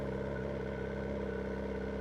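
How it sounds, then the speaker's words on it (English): A BMW S1000R motorcycle engine runs at a steady, even idle, a continuous low throbbing drone heard close and alone. "So let's look at that engine. Sounds nice, really nice."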